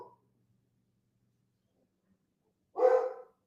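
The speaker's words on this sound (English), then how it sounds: "it's my dog" A pet dog named Leia gives a single loud bark after a long near-silent stretch, close to the microphone and with no talk over it.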